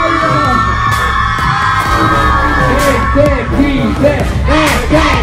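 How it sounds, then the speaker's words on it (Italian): Crowd at an in-store event in a Livorno shopping centre shouting and cheering together, a dense continuous roar of voices with whoops and yells rising and falling throughout, loud and close. "Facciamo un urlo per il video di Alla Vigna"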